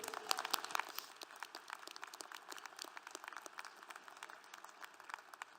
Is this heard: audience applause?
yes